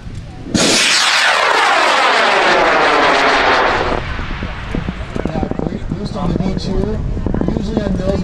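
A V2 high power model rocket lifts off at the LDRS 41 high power rocket launch event with a sudden, loud roaring blast. The roar sweeps down in pitch for about three seconds, then fades into a rough, distant rumble.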